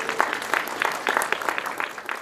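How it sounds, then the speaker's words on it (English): Audience applause at a Muslim art and culture festival, scattered, uneven hand claps from a modest crowd, fairly close and moderately loud, lasting a couple of seconds with no voices over it. "give yourselves a round of applause for being here"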